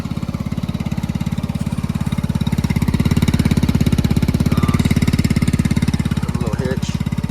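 Icebear Trifect 150cc carbureted scooter engine idling around 2,000 rpm, a steady, rapid putter that holds evenly throughout, close and loud, with no voices over it.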